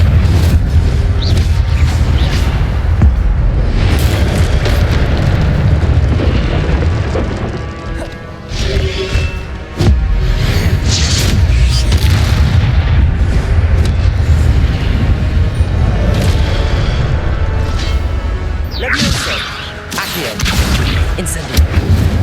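Incendio fire spells cast in the Hogwarts Legacy game, with repeated booming bursts and crackling blasts over a continuous rumbling game soundscape.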